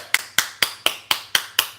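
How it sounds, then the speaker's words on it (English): Seven crisp, evenly spaced claps ring out close and alone, a single person's hands striking in steady rhythm. "The applause is for you as well"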